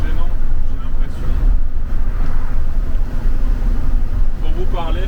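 Loud, steady roaring wind buffets through the open sunroof of a moving Ford Explorer SUV, a dense rushing noise that barely varies, with a faint voice surfacing briefly near the end.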